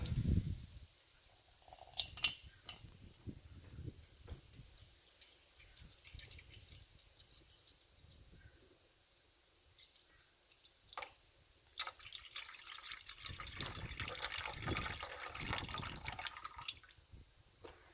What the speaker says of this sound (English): So we'll start putting the water in first, and we'll need 320 grams of water